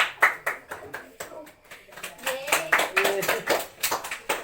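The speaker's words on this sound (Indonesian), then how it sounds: "Ya, tepuk tangan untuk kelompok 2." Classroom of students clapping for a group during a micro-teaching lesson, with uneven bursts of hand claps that rise and fall, and a few voices talking over the claps.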